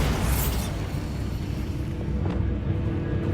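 Bombarda explosion spell in the video game Hogwarts Legacy, a heavy rumbling blast with a sharp burst at the start that rolls on as a loud low roar.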